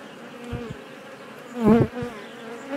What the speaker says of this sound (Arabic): النحل الباني